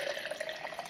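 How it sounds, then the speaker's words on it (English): Water pours steadily into a shaker bottle, a continuous close trickle and splash lasting the whole second, with no voices. "Let's add some water."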